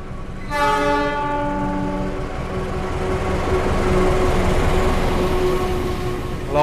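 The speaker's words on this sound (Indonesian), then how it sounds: "Yang akan segera masuk di jalur 3 rangkaian kereta api Argo Dwi Pangga yang saat ini saya naiki." A passenger train, the Argo Dwipangga hauled by locomotive CC206-1387, pulls into track 3 of a station. A loud, sustained horn blast opens it, then a steady rolling rumble of wheels and carriages continues close by.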